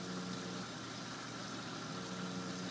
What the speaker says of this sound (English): there's a little bit of a pump noise